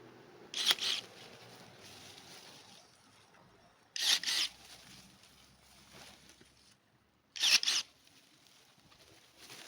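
Cordless battery-powered pruning shears cut through garden branches while pruning an orchard, giving three short, sharp snips spaced a few seconds apart with quiet in between.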